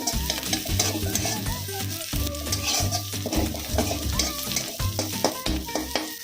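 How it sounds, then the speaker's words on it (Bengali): Chopped onions frying and being stirred in a pan for homemade restaurant-style chili chicken, a steady loud sizzle with scraping stir strokes throughout, no talk. "এবারে এর মধ্যে দিয়ে দেবো পেঁয়াজ কুচি করে রাখাটা। এটাকে একটু ফ্রাই করে নিই।"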